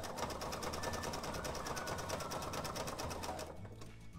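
A sewing machine stitches Velcro onto a felt iPad case, its needle running in a fast, steady rhythmic chatter, close and continuous, before slowing and stopping near the end.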